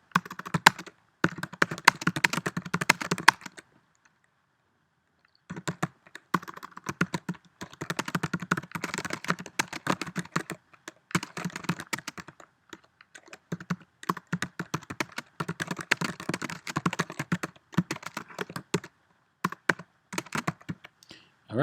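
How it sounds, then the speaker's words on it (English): Code being typed on a computer keyboard: fast bursts of close, crisp key clicks in runs separated by short pauses, with one longer silent gap early on, no voice over it. "So I'm going to write some code."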